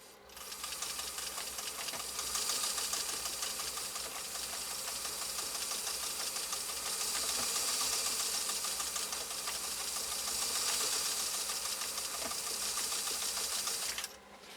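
A Pfaff 360 sewing machine running steadily in cam stitching mode, a fast continuous mechanical whir and rattle close up, holding an even pace for about fourteen seconds before stopping abruptly.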